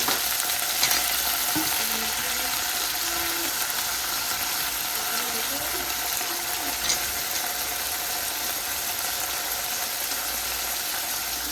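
Puerto Rican arroz con pollo cooks on medium-high heat, giving off a steady close sizzle and crackle with occasional light stirring clicks throughout.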